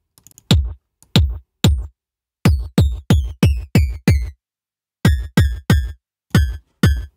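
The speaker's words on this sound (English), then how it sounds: "we added this effect called Bit Crusher, and we use something called downsampling to 27" Drum track bit-crushed with the Bit Crusher effect and downsampled to 27 for an 80s video-game sound: about fifteen hard, gritty hits with a buzzy, ringing digital edge, in short bursts separated by pauses, with no talking.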